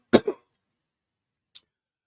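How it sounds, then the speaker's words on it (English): A person coughs twice in quick succession, close and fairly loud, followed after a pause by a brief faint throat sound, with otherwise near silence. "I'm sorry for keep on coughing."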